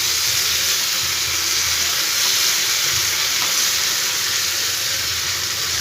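Steady sizzling hiss from a pan of pumpkin, potato and drumstick curry as water is poured in, a continuous close frying crackle with no voices.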